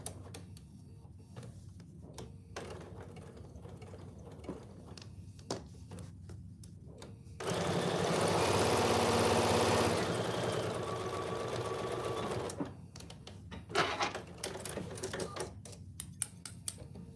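A sewing machine runs steadily, stitching down both sides of homemade oven mitts at a shortened stitch length, a dense continuous mechanical whir lasting about five seconds between quieter handling clicks and rustles.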